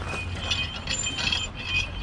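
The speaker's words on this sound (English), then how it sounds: "Abby spotted the Wilton vise over here." Metal mechanism of an old Wilton Tradesman model 1750 bench vise, missing some parts, being handled: steady ratcheting, gear-like clicks and faint clinks, close and moderately quiet, with no speech.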